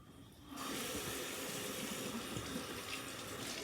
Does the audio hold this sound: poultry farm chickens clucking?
no